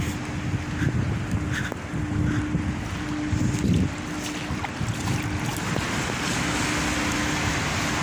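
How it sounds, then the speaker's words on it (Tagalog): Ballast water gushes out of a ship's number 4 cargo hold in a steady, continuous rushing roar with a low hum underneath, mixed with wind buffeting, heard alone at moderate level. "lumabas na ang tubig."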